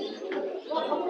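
Pigeons coo at a busy pigeon market, a soft rolling low call up close, with a voice talking over it.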